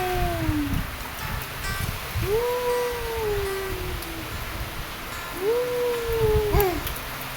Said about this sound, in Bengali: জোরে হাওয়া দিচ্ছে